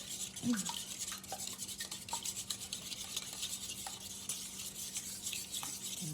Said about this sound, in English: Now we have our 6 eggs that we're gonna beat.